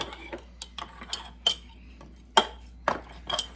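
A spoon clinks against a glass jar while adding sourdough starter, giving a string of short, sharp taps and scrapes spaced irregularly, close and fairly clear against a quiet background.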